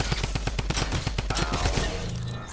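Drum gun firing in Fortnite: a rapid, loud burst of evenly spaced shots up close for about two seconds, then trailing off into a short echoing tail.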